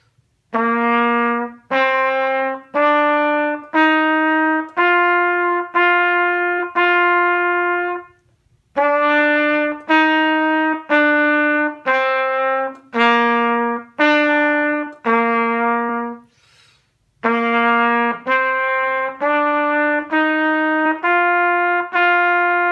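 A trumpet plays a simple Essential Elements practice exercise of clear sustained notes in three short phrases, separated by brief pauses, with no other sound.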